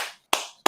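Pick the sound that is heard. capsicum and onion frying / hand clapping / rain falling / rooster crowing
hand clapping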